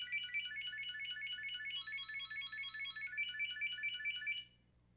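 A Chipolo Card Bluetooth tracker tucked inside a wallet plays its alert, a loud, bright, rapidly warbling electronic melody that runs steadily for about four and a half seconds, then stops abruptly over a faint low hum.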